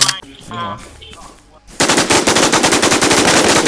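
Rapid machine gun fire in the survival shooter game Infestation Survivor Stories erupts loud and sustained after a quieter opening with faint talk, the bursts hammering in a dense rhythm.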